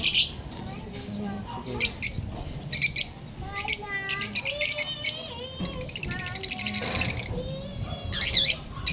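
Pet talking parrot chirping and squawking while being hand-fed, a close, loud run of repeated sharp chirps and trills in bursts, with people talking in the background.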